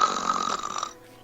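A voice imitating snoring, a single drawn-out nasal snore lasting about a second, close and alone, then fading out.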